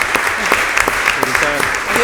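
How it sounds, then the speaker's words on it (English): Applause from attendees at a city council meeting, a short burst of steady clapping with voices talking over it. "Anthony, how about a round of applause?"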